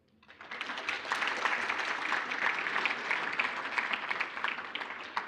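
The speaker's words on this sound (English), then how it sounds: "Okay, a round of applause." Audience applause for award winner Benjamin at the 2022 South African Mathematics Foundation annual awards function, rising quickly from silence into sustained, lively clapping from a hall full of people.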